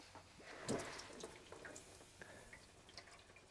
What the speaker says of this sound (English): as we take it out, a little fluid will gush